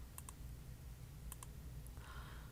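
Faint computer mouse clicks, some in quick pairs, are scattered across a low steady hum while points are placed along an outline in cutting-machine design software; no one speaks.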